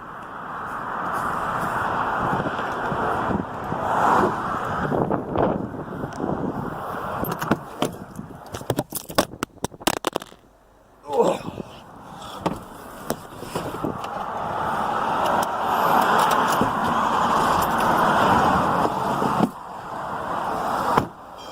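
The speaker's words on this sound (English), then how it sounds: "I'm gonna turn on the car and you're gonna come down." A car engine starts and idles, a steady mechanical drone that dips into a brief pause midway before settling back into a continuous running hum, close and fairly loud with no voices.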